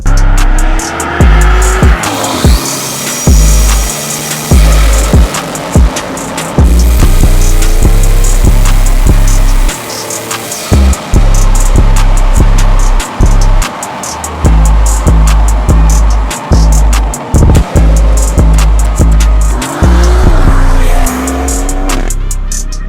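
A loud B58 car engine fitted with an SD Performance intake revs hard again and again, roaring up and dropping back in sharp bursts, close by with no voices.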